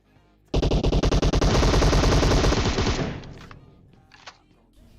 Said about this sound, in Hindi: सामने वाला बंदा उठ के गोली चलाता है